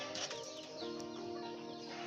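A hen that has just started laying eggs clucks softly among other birds, faint murmuring calls with a light flutter, heard at a distance and fairly quiet.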